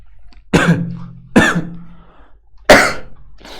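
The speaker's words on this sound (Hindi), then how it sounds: "बीच बीच में खांसी की आवाज आए तो" Three sharp, loud coughs spaced about a second apart, each a harsh burst with a rough tail, close to the microphone with no talking.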